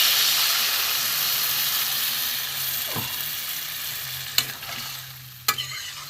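Potato and pointed gourd curry sizzles steadily in the pan as a little water goes in, a continuous broad hiss with a couple of sharp utensil clicks near the end.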